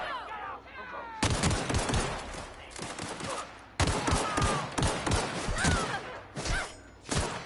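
Sustained bursts of video-game gunfire from The Outer Worlds, dense rapid shots in loud volleys with brief gaps between them, some whooshing effects mixed in.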